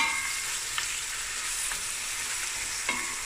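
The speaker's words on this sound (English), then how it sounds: "And I'm going to add the meat." Meat and onions sizzle and fry steadily in a pot for a cabbage bredie stew, with a constant crackling hiss and a few faint stirring scrapes, no talk.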